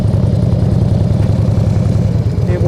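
A motorcycle leaning over while riding tight circles gives a steady, loud, low engine rumble that holds even and close throughout, with no one talking.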